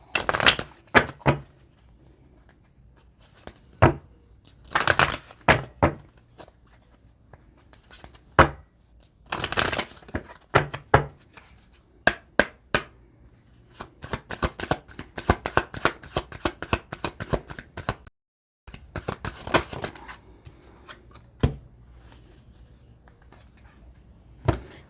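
Tarot cards shuffled in repeated bursts of quick riffling and slapping, close and fairly loud, with short pauses between rounds and no talking.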